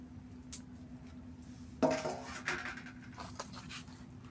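Pieces of boiled bottle gourd with semolina, flour, black cumin and fennel are mixed by hand in a cooking pot in a village kitchen, with soft squishing, a sharp knock and light clinks over a low steady hum.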